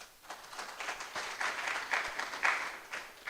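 Audience at a university medical school inaugural lecture applauding, a moderate, fairly distant patter of many hands clapping that swells and fades over a few seconds.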